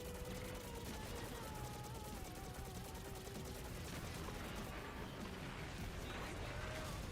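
Rapid video-game gunfire as enemies are shot, a dense, steady stream of shots running the whole time amid busy game effects, with game voices mixed in.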